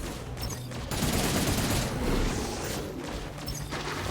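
Dense, continuous weapon fire from the player in the sci-fi game Cygnus Enterprises, a loud rattling wash of shots and impacts with no clear gaps.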